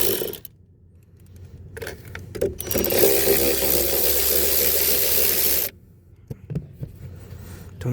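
Bolts being worked loose and pulled out on a Chevrolet Traverse, heard as scattered metallic clicks and knocks followed by a sustained loud rasping, grinding stretch of turning metal, then more brief taps and clunks close by.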